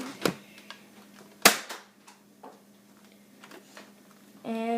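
A Nerf Retaliator toy blaster fires two shots, each a sharp, close snap, followed by faint clicks and a brief rattling hum at the end.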